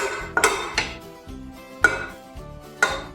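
Unsalted butter and sugar are creamed in a bowl, with a utensil knocking and clinking against the bowl's rim in several sharp, irregular hits and quieter scraping between them.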